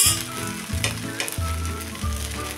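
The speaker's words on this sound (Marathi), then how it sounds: "हे आपण आता उलटून भाजून घेऊया" A traditional rice amboli pancake sizzles loudly on a hot pan as it is loosened with a spoon and flipped, with scraping knocks over a continuous frying hiss and no talk.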